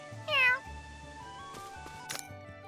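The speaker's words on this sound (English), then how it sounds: "Oh, is that a kitty?" A cat meows once, short and clear, in the video game The Adventures of Elliot, heard over quiet game music and ambient effects.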